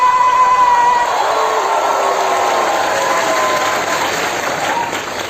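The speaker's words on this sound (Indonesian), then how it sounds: "kita berikan tepuk tangan yang paling meriah untuk Dialog Recharge bersama dengan Habib Hussein Jafar" Audience applause greeting a religious dialogue event with a visiting Habib in Kudus, a dense, steady roar of clapping that fills the room and fades slightly toward the end, with no talk over it.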